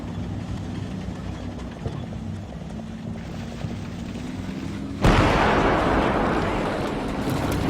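A wall blown apart in the Combat Mission: Battle for Normandy war game, a single loud broadband blast that cuts in sharply over steady low rumbling ambience and then slowly decays.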